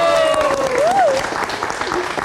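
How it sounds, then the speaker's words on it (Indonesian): Audience applause on a TV show, loud steady clapping with a rising and falling whistle-like voice or tone over it early on, then continuing with crowd noise. "Mana tepuk tangannya?"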